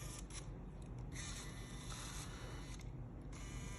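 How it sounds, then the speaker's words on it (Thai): Sony Cybershot DSC-W810 compact digital camera lens motor zooming in and out, a faint, close, continuous whirring buzz with brief stops and starts, heard alone. "ไปดูที่การซูมเข้าซูมออกปกติดีนะครับ"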